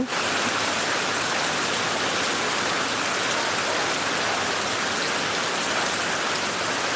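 Steady, dense rain pours down with a constant broadband hiss, unbroken and loud throughout, with no voices.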